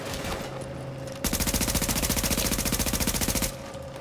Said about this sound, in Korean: 허공에서 총 쏜다